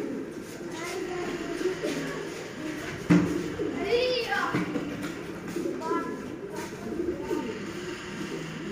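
Sialkoti roof pigeons coo softly in a few scattered bursts on a sunny rooftop, mixed with people talking and distant background noise.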